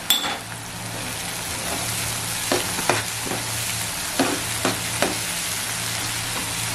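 Capsicum fried with turmeric in a pan for egg tawa masala, a loud, continuous sizzle broken by occasional scrapes and clinks as a spatula stirs it.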